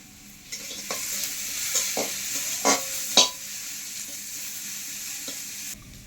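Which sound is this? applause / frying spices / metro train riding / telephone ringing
frying spices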